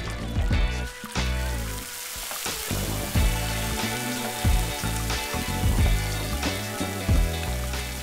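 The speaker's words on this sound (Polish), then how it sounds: "Tak namacerowane mięso mogę zacząć obsmażać, aby zamknąć w nim pory" Marinated pork neck sizzles loudly as it sears in a hot frying pan, a constant crackling hiss broken by occasional scrapes and shifts of the meat.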